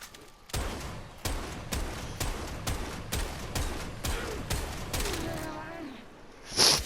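Strun Wraith shotgun blasts in the video game Warframe, about ten loud booming shots fired in a steady rhythm roughly every half second, followed by a reload clatter and a bright chime.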